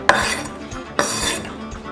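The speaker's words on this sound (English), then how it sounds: "You have to toss the rhubarb with sugar and flour." Rhubarb tossed with sugar and flour in a baking dish gives two short bursts of clattering and scraping against the dish, separated by a brief pause, close and fairly loud.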